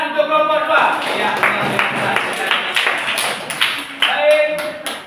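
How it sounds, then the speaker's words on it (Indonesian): A classroom of students claps for a presenting group, a few seconds of uneven hand taps and claps with voices talking over them. "Oke, tepuk tangan untuk kelompok 2."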